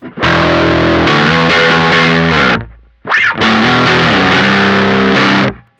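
Two loud bursts of electric guitar chords through a Harby Pedals Noble Tone drive pedal in boost mode, boosted and distorted, each ringing out before a brief silent gap, played alone.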